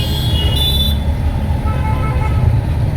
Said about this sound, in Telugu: ఎంత హారన్ కొడుతుండో కొడుకు, నెత్తి ఖరాబ్ అవుతుంది ఆ హారన్ తోటి